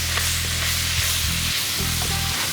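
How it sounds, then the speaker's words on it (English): Flour stirred into a sizzling clam chowder base in a pot, giving a loud, steady sizzle with low scraping stir strokes throughout. "So next the flour is going to go in. And you're just going to stir it in"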